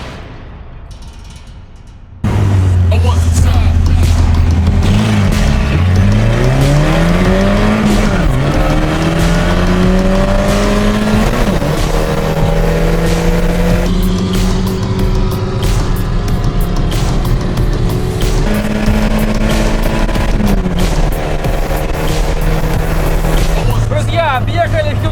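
A ZAZ 968M and a Hyundai Accent race each other. Loud engines rev up and shift through rising and falling pitches for over twenty seconds, with tire squeal and a commentator talking over it.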